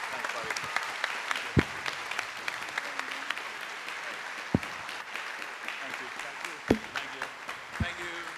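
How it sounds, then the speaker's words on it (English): An audience at a school band concert applauds, the clapping continuous and moderately faint, broken by a few sharp louder claps, with a voice speaking over it. "Let's give him another round of applause."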